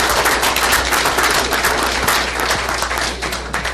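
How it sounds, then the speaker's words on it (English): Applause from the audience fills a Las Vegas city council meeting chamber, a dense, loud burst of many hands clapping steadily for a few seconds before tapering slightly. "A round of applause."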